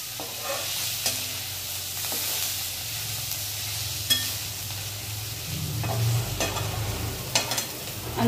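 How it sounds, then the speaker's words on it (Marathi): Bitter gourd frying in a pan on a gas stove, stirred with steady scraping strokes over a continuous sizzle, with a few sharper clinks of the spoon against the pan. "आता आपण याला हलवून घेऊ."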